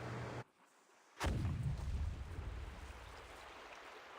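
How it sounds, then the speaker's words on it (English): A sudden explosion sound effect in the video game Reverse 1999 bursts in after a brief hush, a loud booming blast that rolls off into a long, fading rumble. "Sounds like some kind of explosion near the clinic."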